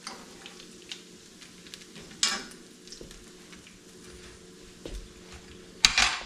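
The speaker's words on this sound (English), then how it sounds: "That's the only way to cook gizzards and roe, you gotta fry them" Mullet gizzards and roe frying in oil, a soft low crackle and sizzle with occasional sharper pops and brief clinks of a utensil against the pan.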